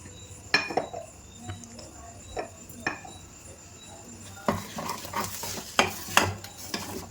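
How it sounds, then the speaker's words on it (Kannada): Prawns, dry fish and egg palya being stirred in a pan, with soft sizzling and repeated scraping and clinking of a spoon against the pan, quiet and close, growing busier toward the end. "ಚೆನ್ನಾಗಿ ಇದನ್ನು ತಿರುಗಿಸ್ಕೊತಾ ಇದ್ದೀನಿ ತೇವಾಂಶ ಎಲ್ಲ ಹೋಗಿ ಇದು ಡ್ರೈ ಆಗಬೇಕು"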